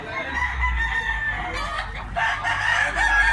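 A Possum Black Leg gamefowl rooster crows nearby, a drawn-out crow over low background rumble, with other fowl faintly audible.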